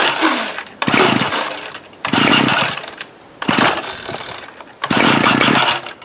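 A 2002 Ryobi 765R string trimmer engine at half choke trying to start, five loud sputtering bursts of revving that each die away between pulls, close and without talk.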